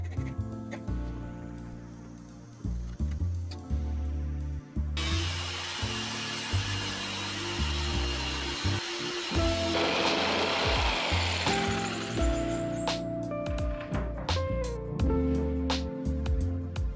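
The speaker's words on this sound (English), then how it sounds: "I used a 1/2-inch plywood cut with circular saw and secured with brad nails." A circular saw rips through half-inch plywood: the motor spins up, then a loud, sustained cutting whine lasts several seconds before the blade winds down, with a few knocks of handled wood and no speech.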